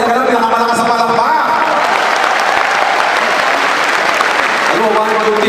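Audience applause at an AIM Global gathering, a dense, steady wash of clapping filling the whole stretch at full loudness, with voices cheering and calling out faintly through it near the start and end.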